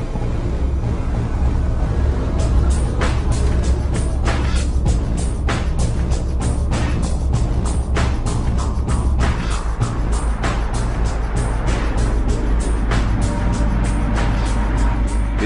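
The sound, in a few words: Volvo lorry driving into a road tunnel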